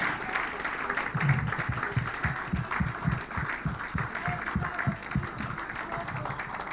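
Continuous applause from an award ceremony audience, broad crowd clapping with a rhythmic run of nearer, heavier claps joining in unison partway through, steady and fairly loud.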